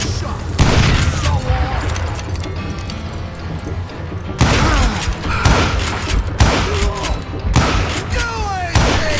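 Gunfire from a western shooter, Call of Juarez Gunslinger: loud booming shots and heavy thuds in repeated bursts, with a lull in the middle, under a busy game mix with some talk.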